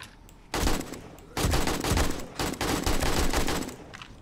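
Rapid bursts of gunfire in the video game 7 Days to Die, loud and close, coming in several dense volleys separated by short pauses, with no talking over them.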